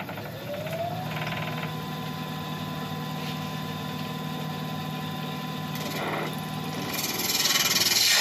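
A wood lathe spins a wood and resin piece with a steady motor hum and faint scraping cuts, holding an even level before growing slightly louder near the end.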